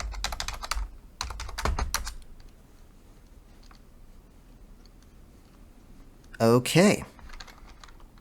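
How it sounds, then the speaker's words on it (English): Password typed on a computer keyboard while installing git from a terminal: short bursts of clicking keystrokes near the start, then a pause and a brief spoken word at the end. "I'm going to type in my password."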